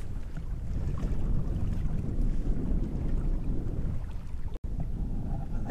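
Steady wind blows across Old Woman Lake in Lake Superior Provincial Park, a constant low rushing roar with gusty texture buffeting the microphone and no voices.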